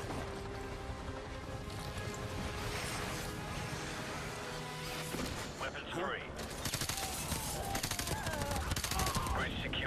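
Rapid gunfire crackles in a shooter game, first as a steady rattle over a droning background, then as sharp bursts of rifle shots in the later seconds. Someone talks over the action.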